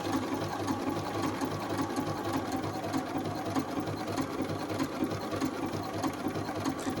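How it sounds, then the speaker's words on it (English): A sewing machine stitches felt pieces for number blocks with a steady, fast, even whir and clatter. It is close and runs without a break the whole time. "And I'm going to sew."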